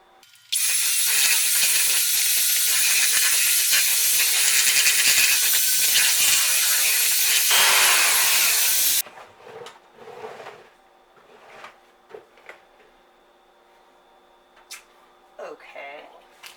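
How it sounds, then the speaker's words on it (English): An electric mixer whirs loudly and steadily for several seconds as cream cheese cookie dough is mixed, then cuts off, leaving scattered bowl clatter and a speaking voice. "now you're going to mix this all up"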